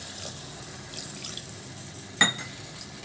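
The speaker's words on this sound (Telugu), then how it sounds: "కొద్దిగా నీళ్ళు వేస్తున్నాము" Water is poured into a pan of capsicum and tomato curry, giving a brief, close splash and trickle, followed by a small second splash, over a quiet kitchen background.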